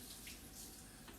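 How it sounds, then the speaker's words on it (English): A kitchen faucet runs steadily while hands are rinsed at the sink, a faint continuous splash and hiss heard alone. "So Suzy is rinsing her hands"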